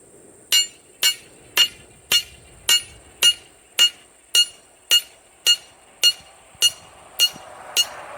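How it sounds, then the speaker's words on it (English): A hammer strikes the back of a metal breaker bar thirteen times in a steady, even rhythm, each blow a sharp ringing clank, close and loud. "Take my hammer here, hit the back of the breaker bar."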